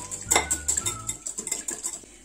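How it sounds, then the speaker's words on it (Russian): Rapid clinking of a utensil against a bowl as an egg is whisked, a quick irregular rhythm of light taps close by, no voices. "Вбиваем яйцо и слегка взбиваем его."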